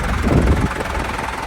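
A John Deere engine on a tractor with a manual gearbox and no electronics runs with a brief, steady low rumble and some wind-like noise, fairly loud and close.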